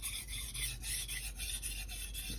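Dull knife sharpened on a Naniwa multi-stone 1000/3000 grit whetstone: a steady run of close, gritty rasping strokes in an even back-and-forth rhythm, no voices.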